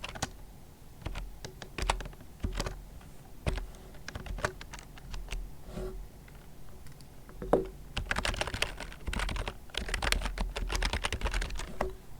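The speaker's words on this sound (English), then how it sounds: "Here, I'll type it." Clicking keys on a computer keyboard as a password is typed, irregular taps at first, then a quicker, denser run of keystrokes, close and fairly quiet with no talking.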